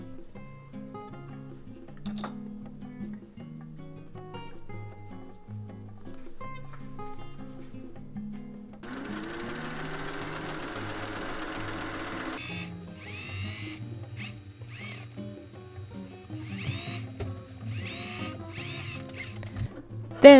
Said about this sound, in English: Make sure the center points are matching and stitch with half inch seam allowance.